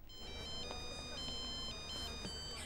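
A telephone ringtone warbles through a short repeating electronic melody of high tones, steady and fairly clear, rung while a call is placed to someone in a New Year setting.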